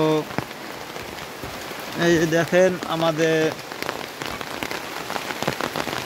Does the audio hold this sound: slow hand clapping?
no